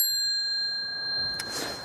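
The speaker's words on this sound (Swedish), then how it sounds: "Ringklocka." The bell on a 1970s Intersport 26-inch men's bicycle gives a single sharp ring at the start that hangs on as a long, clear fading tone. A brief soft rustle follows near the end.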